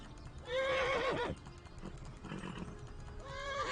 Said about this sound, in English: the horse gets like upset if you just keep sprinting